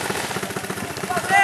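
Rapid rattling airsoft gun shots from an outdoor airsoft game fire in a fast continuous burst, close by, with voices talking over them.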